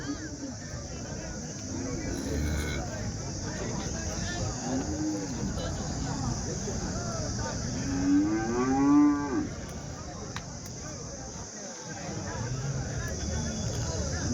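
Cows lowing repeatedly at a Sunday cattle market in Chintamani, several drawn-out moos near and far over a steady crowd babble with people talking.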